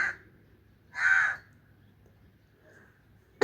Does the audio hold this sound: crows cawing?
yes